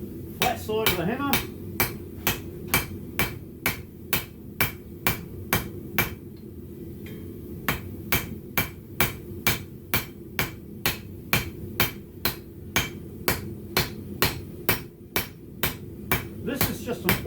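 An ordinary hardware-store club hammer strikes hot steel while forging blacksmith tongs, sharp ringing blows falling in a steady rhythm, close and loud, with a brief pause partway through.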